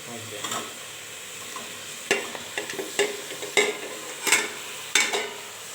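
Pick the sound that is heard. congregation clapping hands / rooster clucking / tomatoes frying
tomatoes frying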